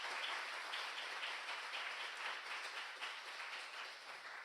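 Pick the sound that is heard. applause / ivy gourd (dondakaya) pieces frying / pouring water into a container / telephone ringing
applause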